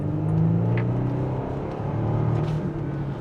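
A Bentley Continental Flying Spur's V6 engine pulls under full throttle from inside the cabin, a steady, muffled drone that swells slightly as it accelerates, with no talk.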